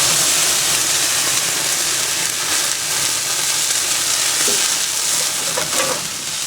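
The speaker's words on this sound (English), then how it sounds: "Okay, so I'm now ready to add my sherry to my sauce. Make sure my pan's nice and hot." Sherry poured into a hot pan already holding pork, mushrooms and onion juices for a sauce, giving a loud, continuous close-up sizzle that hisses steadily throughout with no talking.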